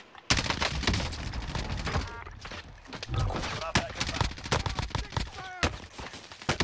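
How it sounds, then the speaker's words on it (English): Rapid gunfire in the video game Warzone, loud and close, with dense bursts and crackling volleys running almost without a break, while players talk over it. "He's up on the hill shooting at me"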